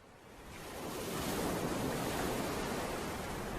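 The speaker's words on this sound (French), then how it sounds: "il leur faut apprivoiser le violent ressac de la côte" Violent surf breaks on the coast with a broad, roaring wash that swells over the first second and then holds as a dense, continuous rush.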